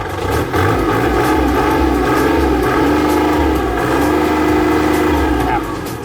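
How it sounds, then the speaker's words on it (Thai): A used Kubota L3408 DI tractor engine runs steadily and smoothly at a constant idle, a loud continuous drone close by with no pauses. "ฟังเสียงเครื่องนะครับ นิ่มๆนะครับ"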